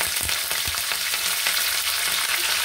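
Curry leaves drop into hot oil and crackle at once into a dense, bright, continuous sizzle, heard close with a few sharp pops.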